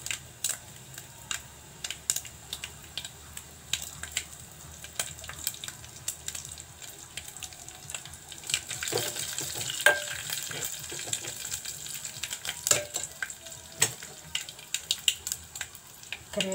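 Cumin seeds and two dried red chillies hit hot oil, crackling and popping in quick, irregular bursts over a faint sizzle that grows busier midway, fairly soft and close.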